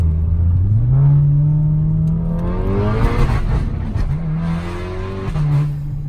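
A car engine revs hard, its pitch sweeping up and falling back in several loud, close pulls with a whirring, straining tone and no talk over it.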